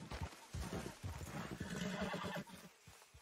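A horse in the video game Red Dead Redemption 2 whinnies loudly and close, with hooves clip-clopping around the neigh and no talking.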